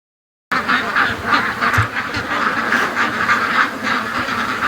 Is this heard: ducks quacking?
yes